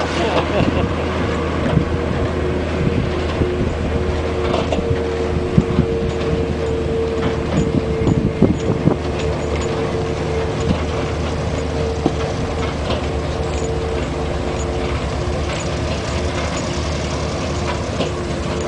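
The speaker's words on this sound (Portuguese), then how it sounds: "Não é que eu não queria te filmar, mas eu quero filmar o caminhão." A heavy multi-trailer sugarcane truck rolls past with a loud, steady diesel engine drone and rumble that holds through the whole stretch without a clear fade.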